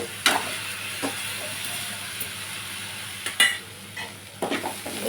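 Onions frying in a pan for onion palya, a soft steady sizzle broken by a few sharp scraping and stirring knocks from a spatula against the pan, with no voices.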